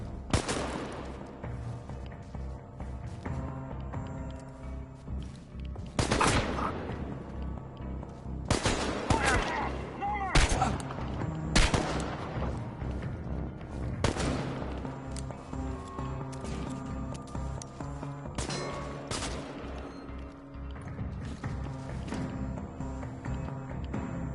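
Gunfire in the video game Chernobylite: a string of sharp shots and short bursts, some loud and close, others fainter, spread unevenly across a firefight.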